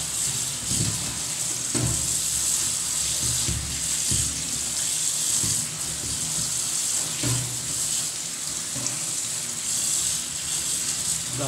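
Mustard greens rinsed under running water, a steady close faucet stream with splashing and soft handling noises throughout, no talking.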